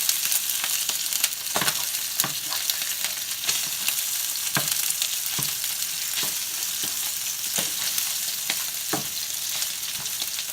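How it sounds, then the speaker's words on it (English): Sausage links frying in a pan for biscuits and gravy, a loud continuous sizzle and crackle with scattered sharp pops and spatula scrapes throughout. "Let these links cook up."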